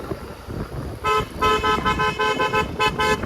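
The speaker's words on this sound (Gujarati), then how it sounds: "દર્શનભાઈ હોરન મારે" Car horn honking in a village, several short repeated toots starting after a brief quieter stretch, loud and close with traffic rumble underneath.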